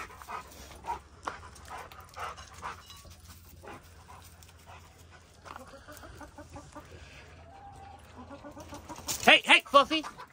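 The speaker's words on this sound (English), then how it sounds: "Kenai, how did I know you'd be out here chasing the chickens?" Rottweiler dog rushing at clucking farm chickens, hens squawking and clucking throughout with a dog's barks and scuffling close by, a loud burst of flapping and squawks at the end.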